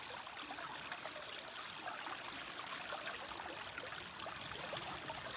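Clear river water flows steadily with a continuous close-up trickling and babbling, even and unbroken throughout, with no voices.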